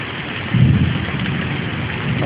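Thunder from a lightning storm rolls in as a broad low rumble over steady heavy rain, swelling briefly after the start and then holding as a dense, continuous wash with no voices.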